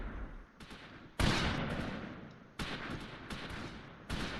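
In the WWII strategy game Close Combat V, a mortar crew fires several loud, booming rounds at irregular intervals. Rumbling battlefield noise fills the gaps between shots.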